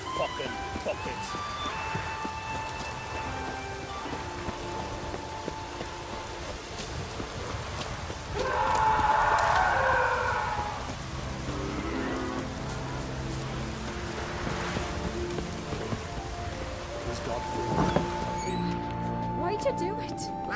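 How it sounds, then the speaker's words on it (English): Heavy rain pours in The Witcher 3: Wild Hunt, a continuous wash of falling water running beneath music, with a swell of louder downpour partway through and a character talking over it. "Raining fucking buckets."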